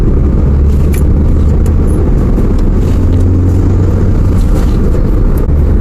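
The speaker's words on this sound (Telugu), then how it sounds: "కలకత్తా చెన్నై హైవే ఇది కాబట్టి ఎక్కువ లారీలు వస్తూ ఉంటాయి" Traffic on the Chennai–Kolkata highway, where many lorries run, rumbles past as a steady, loud, low roar of engines and tyres with no pauses.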